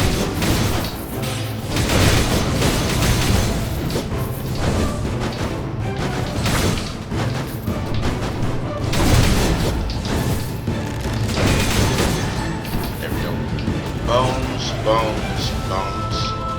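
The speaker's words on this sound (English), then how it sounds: "Critical hits cause explosion." Critical hits in the game Skul The Hero Slayer set off repeated booming explosions in irregular bursts amid clashing combat sounds, loud and close, while someone talks over the action.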